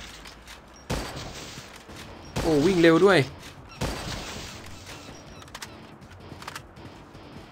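Bursts of gunfire shooting zombies in the video game Unkilled, a few separate volleys spaced seconds apart with a warbling electronic tone in the middle, while someone talks excitedly between shots.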